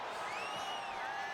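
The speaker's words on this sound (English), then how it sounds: "do you hear this capacity crowd? They want more from Stone Cold." Capacity wrestling arena crowd in WWE 2K25 roars in a steady, dense wash of cheering with rising whoops, loud and continuous throughout the short stretch.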